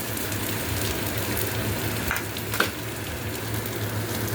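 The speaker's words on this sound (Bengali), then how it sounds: "পেঁয়াজটা ভাজা হয়ে যাওয়ার পরে যে পেস্টটা আমি বানিয়ে রেখেছিলাম মশলার, সেটা আমি দিয়ে দিয়েছি, আর খুব ভালো করে ফ্রাই করছি" Onion and spice paste frying steadily in a pan, a continuous close sizzle with a couple of brief sharper pops or stirring clinks, no voices.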